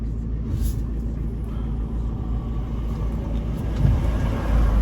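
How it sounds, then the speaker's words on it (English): A lorry passes by on a road: steady, heavy low engine rumble that swells slightly toward the end, with no speech over it. "Oh, there's a lorry coming."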